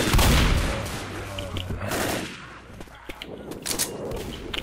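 Gunfire in the zombie game Left 4 Dead, a burst of rapid shots and booms up front that thin into scattered sharper reports, loud and close amid game noise.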